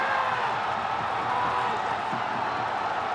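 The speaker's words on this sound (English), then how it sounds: "just listen to the roar from the crowd" A cricket crowd of Sri Lankan fans roars steadily in a stadium during a Hong Kong Sixes cup final against Pakistan, a dense continuous cheer with scattered whoops and no clear speech.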